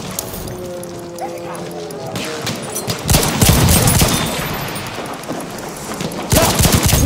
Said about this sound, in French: Mitrailleuse ennemie!